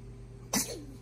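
A single sharp, short sneeze bursts out close by against a quiet room hum, over in under half a second.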